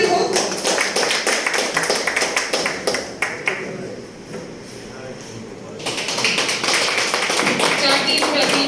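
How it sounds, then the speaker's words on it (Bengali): An audience at a winter tournament prize distribution claps, a dense rattling round of applause that dips into near quiet midway before swelling again, with speech mixed in. "জোরে করতালি হোক"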